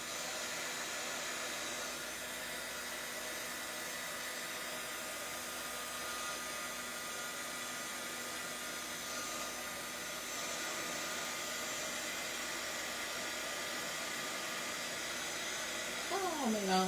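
A hair dryer runs steadily and close for the whole stretch, blowing on Distress Glaze on a 6x6 handmade craft card, a constant loud whooshing hiss that rises a little in the last second.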